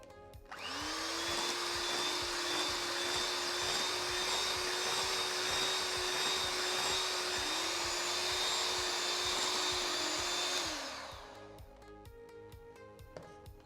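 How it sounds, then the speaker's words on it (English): An electric hand beater whirs in a steady, close, high-pitched drone while whisking soft butter until pale and fluffy, holding its pitch with slight dips before switching off near the end; no speech. "with the help of an electric hand beater, we are going to whisk the butter until it turns pale and fluffy"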